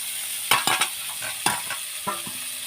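Fish sizzle in hot oil with a steady high crackle, and a utensil clinks and stirs in a few sharp knocks against the pan. The sound is close, and no voice is heard.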